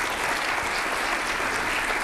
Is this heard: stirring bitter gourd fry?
no